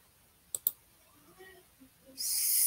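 Two quick computer mouse clicks close to the microphone on a Chromebook, sharp and distinct, followed by faint murmurs and a burst of hiss.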